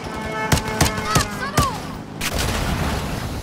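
Sniper rifle shots in Call of Duty Modern Warfare 2, four loud, sharp cracks about a third of a second apart, each with a ringing tail, followed by a heavier blast and rumbling after a brief lull.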